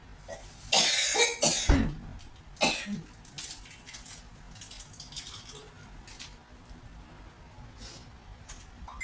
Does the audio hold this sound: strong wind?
no